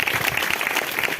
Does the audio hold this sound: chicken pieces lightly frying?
no